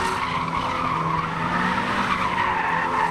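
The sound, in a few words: car tires skidding while doing donuts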